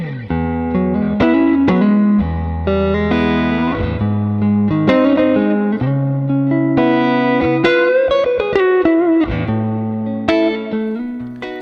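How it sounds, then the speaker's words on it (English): A PJ Eggle 96 Vintage Strat-style electric guitar in torched two-tone sunburst, played plugged in, rings out in bright chords and single-note runs with sustained notes and some reverb, loud and close with no voices. "as soon as I plugged this guitar in, I just noticed the classic tones coming from this 96 Vintage"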